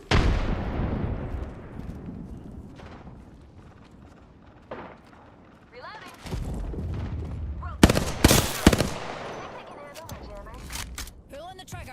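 Gunfire in the battle royale game Apex Legends, with sharp bursts of shots clustered mid-match, loud and close, amid explosive booms and background game noise.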